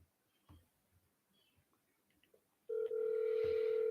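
Faint desk clicks give way to a loud, steady phone tone on an outgoing follow-up call, sounding abruptly and holding to the end.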